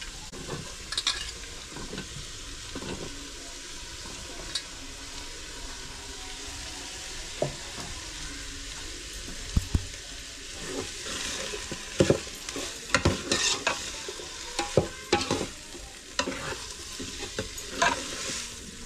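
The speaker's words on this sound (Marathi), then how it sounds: "परतून घेते थोडं." Onion and tomato sautéing for a village-style chicken curry, with a constant close sizzle broken by frequent spatula scrapes and clicks against the pan, growing busier toward the end.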